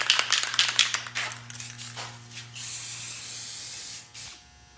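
Second coat of black spray paint going onto a Chevrolet Silverado grill: short bursts of hissing aerosol at first, then one long steady spray pass that cuts off, close and fairly loud.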